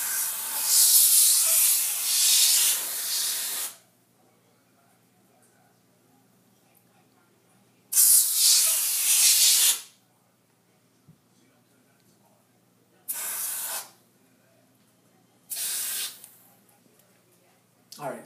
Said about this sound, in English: I'm going to spray this entire side of the television here